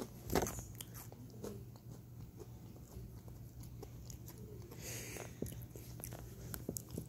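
A single crisp bite crunches into a cotton candy flavored Oreo cookie, close and quiet, followed by faint chewing.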